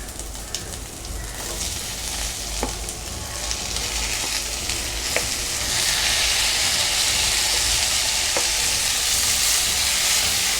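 Tomatoes frying with sautéed onions and garlic for a South Indian tomato kuzhambu gravy, a close, steady sizzle that swells louder partway through, with a few light spoon taps against the pan and no speech.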